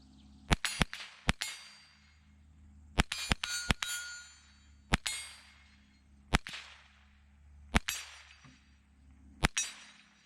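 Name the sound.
rifle shots fired through a riflescope-mounted rifle at targets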